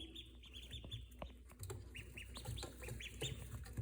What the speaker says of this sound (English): So these are the ducklings. The duckies. They're Welsh Harlequin.